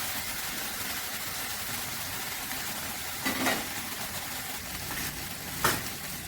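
Three green chillies and spices fry in oil in a pan for Bengali spinach dal (palong dal), giving a steady close sizzle with two brief stirring scrapes near the end.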